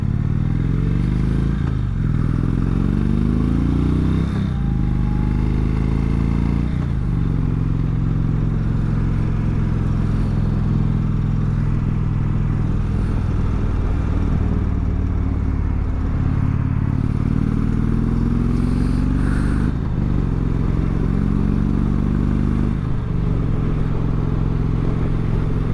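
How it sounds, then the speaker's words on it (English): An Indian Roadmaster motorcycle cruising and accelerating on an interstate, its loud engine drone rising in pitch through repeated gear climbs, with heavy wind rush throughout. "I'm going to take it on the interstate so I can show you how it handles on and how it accelerates"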